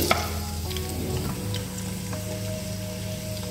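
Onions frying in about half a cup of hot cooking oil in a pot, with a steady close sizzle and a stir or two near the start.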